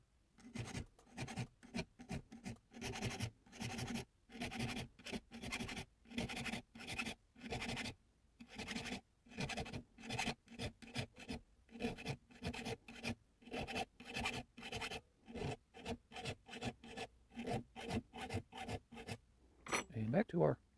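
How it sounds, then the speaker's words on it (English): A chainsaw file rasps across the steel of a handmade slip joint pocket knife in steady, rhythmic strokes, close and fairly quiet, with one stroke after another and no pauses for talk. "then our chainsaw file for the ones in between."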